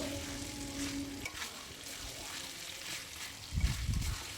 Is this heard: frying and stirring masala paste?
yes